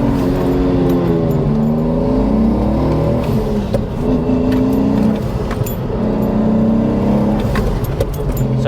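A BMW E46 318i Touring swapped to a 480 bhp B58 engine pulls hard in second gear, its loud, close exhaust note climbing steadily in pitch throughout with no talking.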